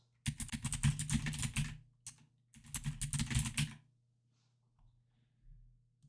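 Two bursts of rapid key clicks on a computer keyboard as a password is typed, close and fairly quiet, separated by a short pause, with no talking.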